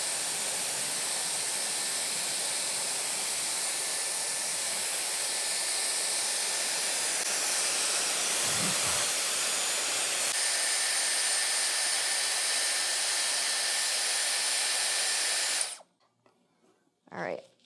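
A Dyson Airwrap blows hot air while curling hair, giving a steady, close airy whoosh for about fifteen seconds before it cuts off abruptly. A brief voice is heard near the end.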